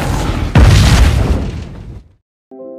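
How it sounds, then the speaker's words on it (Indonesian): A loud, booming explosion inside a spacecraft cabin erupts and roars for over a second before fading into silence, followed by a faint tonal hum. "Seketika ledakan pun terjadi dan menewaskan semua pilot di dalam sana"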